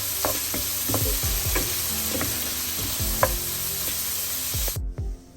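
Slit green chillies sizzle in hot oil in a pan for Tamil egg curry, a close, steady frying hiss broken by repeated scraping stirs of a spoon before the sound abruptly stops.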